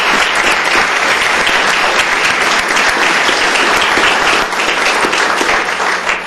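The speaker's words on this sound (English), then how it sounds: "they deserve another big round of applause" Loud, dense applause from a large audience at a county commissioners court meeting fills the whole stretch, steady and sustained without pause.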